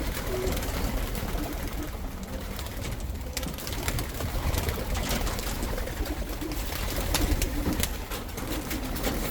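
Young racing pigeons coo around the loft as they are let out, a steady chorus of soft, overlapping calls with rustling and flutters close by and no talking.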